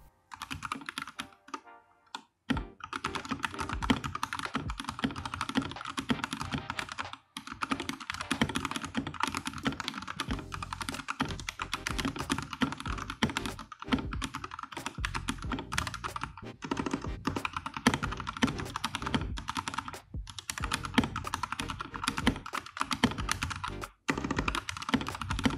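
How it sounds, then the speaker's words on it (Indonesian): Rapid, steady typing on Zikri's compact 60% mechanical keyboard, dense bursts of close, crisp key clacks with a few brief pauses, alone without talk. "berikut adalah typing test dari keyboardnya Zikri"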